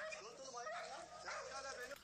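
A dog yips and barks excitedly, mixed with whimpering, sounding somewhat distant as if from a speaker, while voices talk over it.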